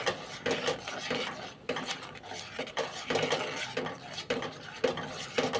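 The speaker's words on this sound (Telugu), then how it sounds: "అది వేసిన తర్వాత ఒక 3/4 కప్ షుగర్ వేసి చక్కగా కలపండి" Sugar being stirred into a thick milk mixture for junnu, a spoon scraping and rubbing steadily against a metal pot in repeated strokes, close and fairly quiet with no talking.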